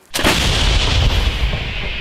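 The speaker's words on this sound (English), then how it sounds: "This is the artillery unit who are working with the M777s." An M777 howitzer fires during frontline combat near Bakhmut in Ukraine. A single heavy, loud boom hits sharply, then a long, rumbling roll carries on and hangs in the air without fading much.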